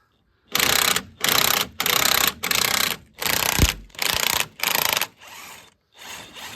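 A ratchet works a 21 mm top bolt on a Dacia Sandero front damper in seven or eight rapid, loud clicking bursts with short pauses between, followed by a softer final stroke.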